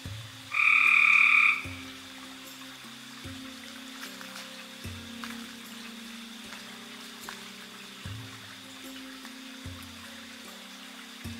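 A toad calls in the wild in Arkansas with a short, steady high trill near the start, then a quiet outdoor bed of soft drips and low knocks. No voices.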